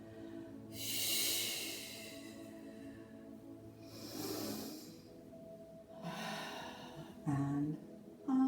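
Slow, audible breaths during a Pilates mat exercise, long hissing exhales and inhales spaced a few seconds apart, close and quiet, ending in a short gasp.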